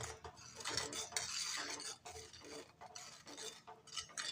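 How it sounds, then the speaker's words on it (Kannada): A spoon stirs food colour into jalebi batter in a metal bowl, making close, rhythmic scraping and clinking strokes that sound soft and quiet, with no voices. "ಇಷ್ಟು ಕಲರ್ ನೋಡ್ರಿ ಇದನ್ನ ಮಿಕ್ಸ್ ಮಾಡ್ಕೊಂತ ನೋಡ್ರಿ"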